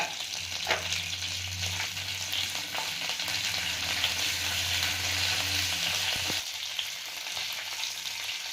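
Dried red chillies and curry leaves frying in hot oil give a steady, close sizzle with a few sharp crackles and occasional stirring scrapes, while a low hum runs underneath throughout.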